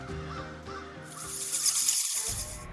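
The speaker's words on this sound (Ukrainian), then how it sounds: "Несподівано в кімнату почали злітатися ворони, які сідали прямо на присмертного чоловіка." Crows caw in a room, several harsh repeated calls close by, followed by a louder burst of noise and a brief gap of silence.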